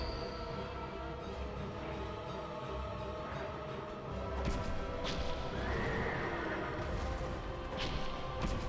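Executioner's horse from Dark Souls 2 neighing and whinnying amid clip-clopping hooves and crashing battle noise, steady and loud over a continuous game soundscape.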